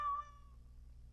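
A cat meows once in the Awakening expansion of a fantasy video game, a short, clear, tonal cry that fades over a quiet, low background hum.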